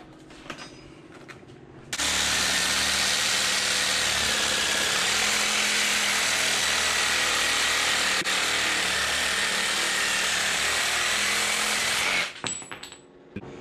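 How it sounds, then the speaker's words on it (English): A Sawzall reciprocating saw cuts through a 13-bolt differential cover during a Jeep JK one-ton axle swap, running as one loud, steady grinding buzz for about ten seconds before stopping abruptly. "Switch back over to the Sawzall."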